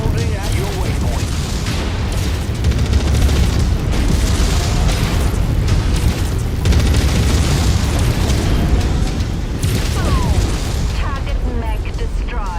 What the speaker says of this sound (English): Target mech destroyed.